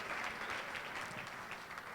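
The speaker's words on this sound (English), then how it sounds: "Dr. Faye Williams, give her another round of applause." An audience at a women's conference applauds Dr. Faye Williams, a continuous wash of many hands clapping, fairly faint and distant throughout.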